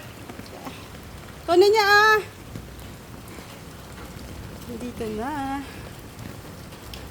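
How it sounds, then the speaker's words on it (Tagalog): Heavy rain pours steadily over a flooded neighborhood, a constant broadband hiss throughout, with two brief raised voices calling out over it. "Tapos tuloy-tuloy pa buhos ng ulan."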